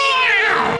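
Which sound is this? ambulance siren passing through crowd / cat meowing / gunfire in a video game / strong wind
cat meowing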